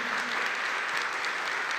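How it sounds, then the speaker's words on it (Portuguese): A church congregation applauding together, a brief, steady wash of clapping at moderate volume. "Aplauda ao Senhor."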